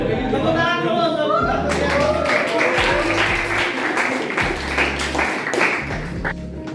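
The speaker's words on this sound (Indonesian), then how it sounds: "tepuk tangan dulu untuk" Classroom clapping during a chemistry lesson, a burst of hand claps and taps that builds after a moment, mixed with chatter and voices in the room, fairly close and uneven.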